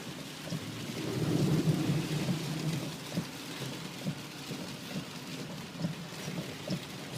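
Steady rain drums on a car while driving, with a low rolling rumble of thunder swelling early on over continuous patter.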